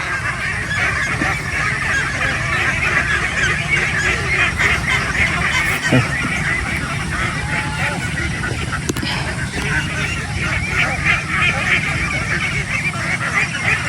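Domestic ducks on a farm, now half-wild, keep up a dense, continuous chorus of quacking and honking from a sizable flock, steady and loud throughout with a couple of sharp clicks in the middle.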